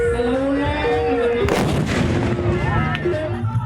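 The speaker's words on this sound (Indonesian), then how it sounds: "permainan kuluwung atau meriam karbit" Two heavy booming blasts of carbide cannons, a few seconds apart, ring out over a busy background of voices and dangdut music at a festival.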